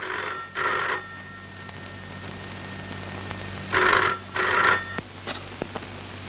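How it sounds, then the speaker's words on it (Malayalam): A telephone rings in two short double bursts, a pause, then two more, clear and fairly close over a quiet background hum. "രജനിക്ക് ഫോൺ വന്നിരിക്കുന്നെന്ന് പറയും"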